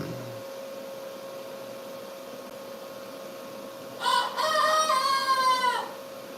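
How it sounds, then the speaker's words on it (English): Over a steady background hum, a rooster crows once, a loud, drawn-out call lasting about two seconds; no other clucking stands out. "my chickens are making more noise this morning than they ever have"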